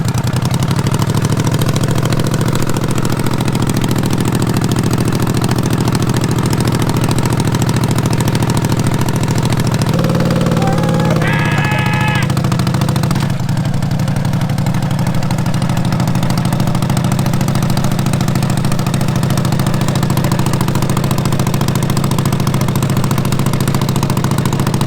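A racing lawn mower engine runs steadily and loudly throughout, a continuous low hum with a brief rise in pitch partway through, then settling back to an even drone.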